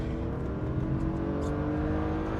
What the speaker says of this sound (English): With a naturally aspirated engine, it delivers power linearly, very linear power delivery,